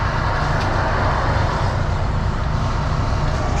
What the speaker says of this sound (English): there's so much traffic here. It's so loud.